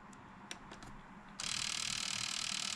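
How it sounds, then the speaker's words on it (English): Nintendo Wii disc drive making a horrendous noise: faint clicks and small mechanical ticks, then an abrupt loud, harsh grinding whir that starts midway and continues steadily to the end. "I noticed that the disk drive is making a horrendous noise."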